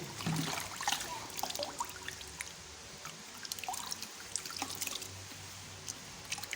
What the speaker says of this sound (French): ici je suis en train de rincer